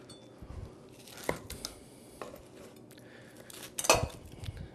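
A knife cutting through scallops on a board, quiet scrapes and several sharp clinks of the blade, with soft handling noises between them.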